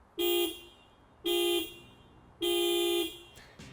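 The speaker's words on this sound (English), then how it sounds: "Honda has a habit of fitting its cars with the world's most pathetic sounding horns" Three short, bright beeps from a Honda Jazz (Fit) car horn, each lasting about a third to half a second and spaced evenly apart, with a thin, cartoonish, high-pitched tone, close and loud with no voices.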